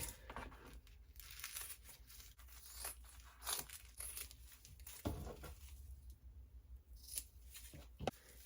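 Scissors trimming plush So Lush fabric along a sewn seam: a series of close, crisp snips and rustling fabric, with some clicks of the blades between cuts, fairly quiet overall.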